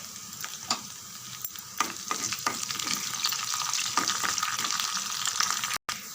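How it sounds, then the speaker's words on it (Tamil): Sliced onions sauté in a pan for a ridge gourd and mung bean dish, giving a close, steady sizzle with regular stirring scrapes and ladle taps, and a brief dropout near the end. "வெங்காயம் நல்லா சோக்க வதங்கட்டும்."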